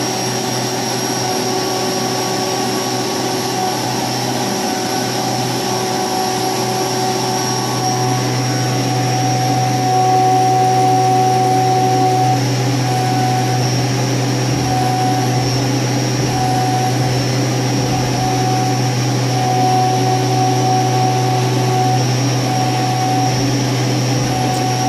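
A CNC mill cuts metal with a 10mm solid carbide end mill pushed near its limit, a loud, sustained whine and roar with steady tonal hum that swells slightly midway.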